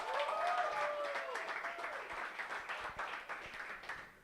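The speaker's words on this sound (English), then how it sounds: "Give her a round of applause" An audience at a mental wellness tour event in Largo, Maryland claps, the applause rising under a brief whoop or cheer at the start and then carrying on as a fairly quiet, ragged patter.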